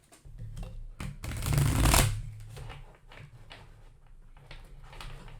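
A deck of cards riffles loudly in one extended shuffle, bracketed by lighter taps and rustles of cards being gathered and squared.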